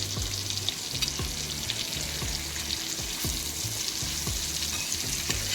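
Bombil fish fry crisply in hot oil in a pan as pieces are flipped, a steady sizzling hiss punctuated by repeated soft spatula scrapes and knocks, with no talking.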